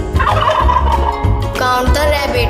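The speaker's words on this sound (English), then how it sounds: "There are 17 turkeys." Turkeys gobble close and loud in several quick bursts of rapid warbling calls, with no talking.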